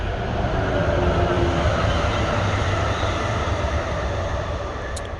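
A train rumbles past nearby outdoors, a steady low roar of rolling wheels and rail noise that holds level and then eases slightly near the end, with no talking.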